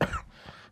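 A man with a cold coughs once, a short loud burst near the start followed by faint breathy sounds, heard up close with no talk.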